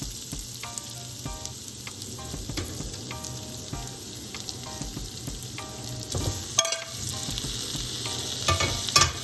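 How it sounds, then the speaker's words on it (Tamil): Steady sizzling as yam sautés in a pan, with occasional scraping stirs and clinks of a utensil, continuous and close. "இந்த கிழங்க வந்து ஒரு நிமிஷம் வந்து நல்லா வதக்கிட்டு"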